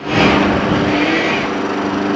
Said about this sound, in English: Gas-powered lawnmowers, weed whackers, and anything in that family could soon be a thing of the past.